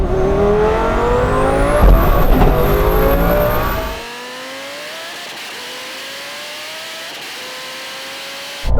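A Xiaomi SU7 Ultra and a Lamborghini accelerate hard in a drag race, a loud engine roar climbing through rising gear whines for about four seconds, then the sound drops away to a fainter, distant whine with no talking.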